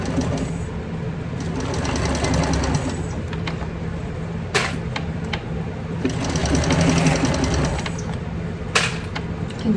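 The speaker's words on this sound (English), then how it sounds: "Back stitch again." A sewing machine backstitching a handbag seam runs in long, steady whirring stretches, easing off around the middle before picking up again, with a few sharp clicks between runs.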